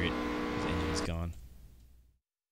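A damaged NASCAR stock car in the iRacing game at Bristol runs with a loud, rough engine drone that drops off sharply partway through and fades away into silence.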